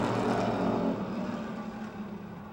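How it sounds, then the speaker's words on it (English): Stock cars in the Charger class race at Motordrome Speedway, with a loud engine roar sweeping past and fading slightly over a couple of seconds. "Now the Keller cousins in car 13 and car 1 storming to the inside of Garchak's 44 machine"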